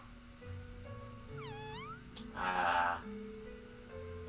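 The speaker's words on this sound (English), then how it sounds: "It's the cat!" A cat meows in the video game Omori, a single drawn-out meow rising and falling in pitch near the middle, clear and fairly loud over quiet looping background music, with no talking.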